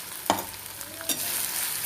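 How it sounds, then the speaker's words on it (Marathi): Mustard seeds, curry leaves and crushed green chili crackle in hot oil in a pan for vada pav masala, with two sharp spattering bursts over a steady soft sizzle. "मोहरी छान अशी तडतडली ना, लगेचच आपण कढीपत्ता टाकणार आहोत।"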